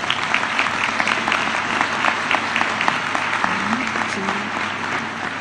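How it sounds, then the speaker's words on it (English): Sustained audience applause at a high school graduation ceremony, dense steady clapping throughout with faint background voices. "Please give them a round of applause."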